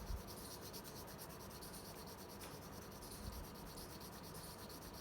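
Colored pencil drawn lightly across paper in smooth, diagonal strokes, a continuous faint scratchy rubbing close up with steady texture and no talking.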